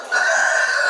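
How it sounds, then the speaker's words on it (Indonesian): A Sensi breed rooster, about ten months old, crowing, one long sustained crow that sounds loud and close, with no other sounds around it. "ayam pejantan"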